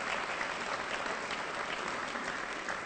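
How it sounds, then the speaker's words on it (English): A crowd at a high school National Letter of Intent signing day applauds the event's volunteers, a steady, even wash of clapping held at a moderate distance throughout. "so please give a round of applause to all my volunteers who help out."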